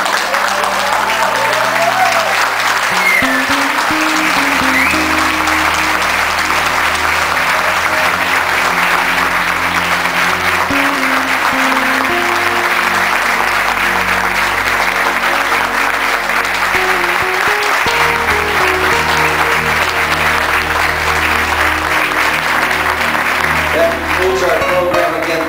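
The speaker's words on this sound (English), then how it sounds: "I'd like to ask all of us to stand and give the class of 2008 a standing ovation" A standing ovation for the class of 2008 fills the hall: loud, sustained applause from a large crowd, steady throughout, with some speech faintly underneath.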